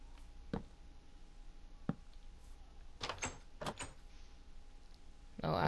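Doors placed and opened in Minecraft inside an underground fallout shelter: a few sharp clicks, then a quick series of wooden door swings and clacks, with another burst at the end, over a quiet background.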